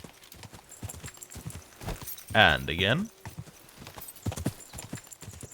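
Horse hooves clip-clopping at speed in Kingdom Come: Deliverance II, a steady run of hoof strikes with a whinny or snort bursting out midway, while someone talks briefly over it.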